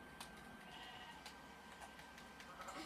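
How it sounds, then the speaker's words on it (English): Sheep bleat in a video game, faint and distant, a few soft calls over quiet background noise. "And don't forget the sheep."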